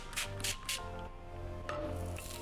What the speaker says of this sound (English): Now I'm spraying it with water.